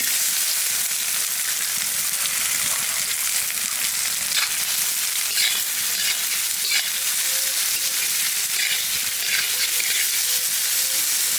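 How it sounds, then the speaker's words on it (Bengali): Onion frying in oil in a wide, flat karahi, a steady bright sizzle and hiss with faint stirring clicks, close and continuous with no voices. "তেলের উপরে দিয়ে দেবো পেঁয়াজ"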